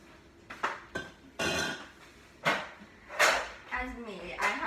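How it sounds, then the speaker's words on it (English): Metal baking pans clang and clatter in several loud bursts while a cake is being prepared, with a young voice speaking between and over the knocks. "If you don't like the sound of metal, please skip this part."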